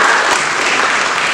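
An audience at a Javanese cultural dance forum and performance claps in a loud, dense burst of applause that fills the hall and holds steady throughout.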